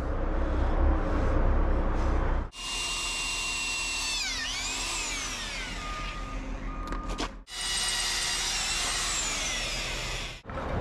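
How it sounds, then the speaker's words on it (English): A hammer drill runs while building a salt enclosure, whining loudly in long sustained bursts with pitch that rises and falls as it bites, separated by brief stops. "I gotta run the hammer drill through"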